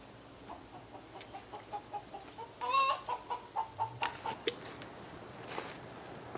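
Hens cluck in a steady run of short rhythmic calls by backyard nesting boxes where they lay eggs, fairly close and alone with no talk.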